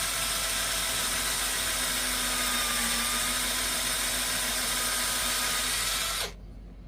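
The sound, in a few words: drilling a hole in a wooden bead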